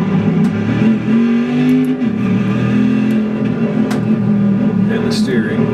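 Simulated car engine in the iRacing driving game, a steady droning hum with mild pitch shifts as it revs, loud and continuous with faint background sounds.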